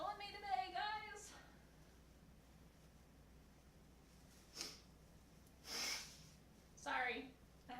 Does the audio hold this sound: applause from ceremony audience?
no